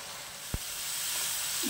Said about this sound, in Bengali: দিয়ে আবার এটাকে ভালো করে কষিয়ে নেব।